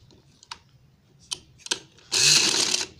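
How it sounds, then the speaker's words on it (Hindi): A sewing machine stitches maroon strips onto fabric for a sleeve design, a few quick isolated needle taps followed by a loud, close burst of continuous stitching lasting under a second. "ये मेहरून पट्टियाँ मैं इस पर सिलाई करके लगा रही हूँ"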